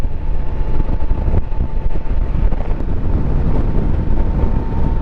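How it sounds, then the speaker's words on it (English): Wind buffets the microphone on a 2024 Can-Am Spyder three-wheeled motorcycle ride, a loud continuous low roar with a steady engine hum beneath it. "Seems like the wind is picking up today."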